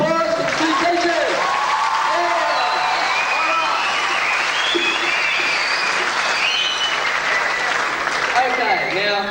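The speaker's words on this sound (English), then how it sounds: "Big round of applause for the two teachers." Audience at a 1989 Year 12 farewell show applauding two teachers, a dense steady wash of clapping from a crowd with voices and whoops mixed in throughout.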